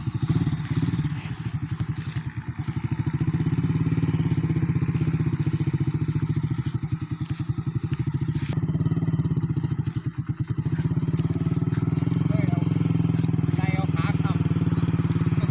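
A Honda Sonic motorcycle with a sidecar circles nearby, its engine putting out a steady, loud, throbbing drone that dips briefly and then holds. Someone talks over it.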